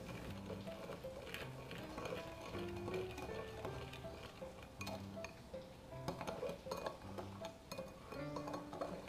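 Olive oil being stirred into a sauce in a bowl, with quiet repeated clinks and scrapes of a utensil against the bowl under faint background music.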